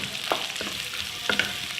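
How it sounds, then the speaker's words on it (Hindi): Chopped onions sizzle and crackle in hot oil in a pan, a steady close frying hiss broken by a few brief stirring scrapes. "ऑयल अच्छी तरह से ये गर्म हो जाएगा तो फिर हमने इसमें ये प्याज ऐड करनी है।"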